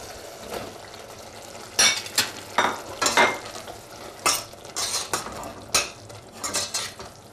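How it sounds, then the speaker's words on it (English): Cubed aubergine is stirred into a simmering spiced soy mince curry, with repeated close scrapes and clinks of a spoon against the pot over a low bubbling sizzle. "Mix it in well and let it simmer for a while."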